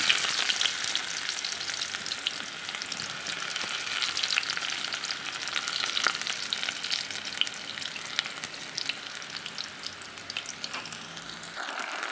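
Onion sautéing in a pan for a meatball sauce, a steady, close sizzle and crackle of frying that holds evenly throughout with no voices.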